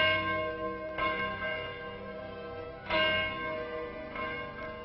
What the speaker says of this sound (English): At precisely noon each day, this bell is rung.